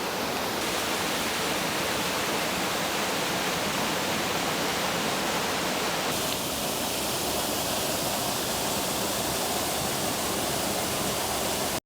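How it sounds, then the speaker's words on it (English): A waterfall on a hiking trail pours in a constant, dense roar of splashing water, loud and unbroken throughout with no voices over it. "This is a beautiful surprise waterfall."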